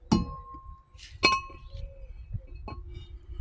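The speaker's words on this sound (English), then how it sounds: "I'm going to put the new rotor on, just like that." A new brake rotor clinks onto the front hub of a 2006–2008 Toyota RAV4 with a 2.4L 2AZ-FE engine, giving two sharp metallic rings close by followed by lighter taps and small knocks, with no talk.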